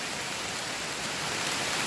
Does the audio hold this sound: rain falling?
yes